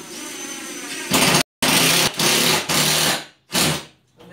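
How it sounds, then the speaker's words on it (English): A power drill drives long screws through drywall in several short bursts, a loud whirring buzz that starts and stops abruptly with brief pauses between runs. "I'm using fairly long screws so that I can get right through my drywall."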